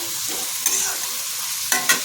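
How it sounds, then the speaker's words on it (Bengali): Fried potato pieces in a pan for ghugni are stirred with a utensil, giving a soft steady sizzle under a few sharp scraping clinks, with no talking. "আলুগুলো ভালো করে ভাজা হয়ে গেছে দেখুন বন্ধুরা।"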